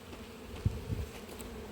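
A low, steady drone of honey bees comes from an opened hive during an inspection and split, with a couple of soft bumps from handling frames close by.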